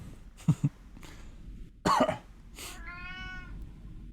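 A cartoon cat meows in the puzzle game Her Trees: Puzzle Dream, a short bright mewing cry near the end, after a couple of soft throaty grunts and a brief rough burst.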